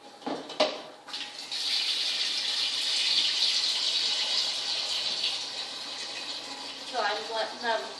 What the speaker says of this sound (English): I'm going to dump the water out so that you can put some cold water into them